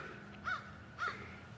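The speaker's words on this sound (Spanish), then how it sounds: "Y hay un pájaro también que está jodiendo." A crow caws twice, about half a second apart, moderately clear above a steady low background hum outdoors in a garden.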